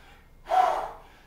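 One heavy, gasping breath from a person tired during a kettlebell double thruster workout, a sharp rushing inhale-exhale close up against quiet background.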